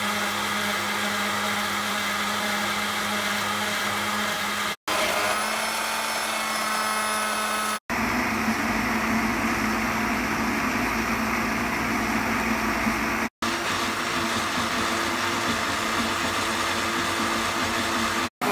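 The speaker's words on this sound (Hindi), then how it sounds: "अब ये ब्लेंड हो रहा है, ये ऑलिव आहिस्ता से जा रही है।" A blender runs loudly and continuously with a harsh motor whine, blending garlic and slowly added olive oil into Lebanese toum sauce, pausing briefly a few times before starting up again.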